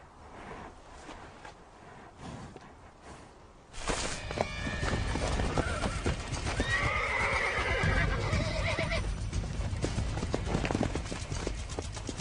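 Wild mares whinnying and neighing, with hooves thudding and clip-clopping as the herd moves; quieter at first, then a sudden surge of close, loud activity with repeated calls.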